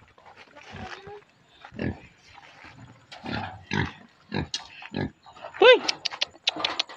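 A pig grunts and snorts in repeated short bursts close by on a farm, with a higher squeal near the end, while people talk in between.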